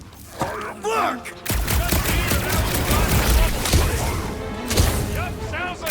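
Gunfire and combat in Marvel's Guardians of the Galaxy video game: a steady barrage of rapid shots and impacts, mixed with voices shouting and grunting throughout.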